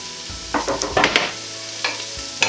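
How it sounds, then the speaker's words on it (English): Onions and garlic sizzle in a frying pan while a utensil stirs them with a few quick scraping strokes. The sound is close and fairly loud, with no voices. "just give that a good stir again"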